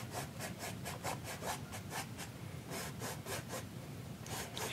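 Small paintbrush strokes rasp across paper during a sepia seascape painting, a steady run of quick, evenly spaced scratchy brushes heard up close with no talking.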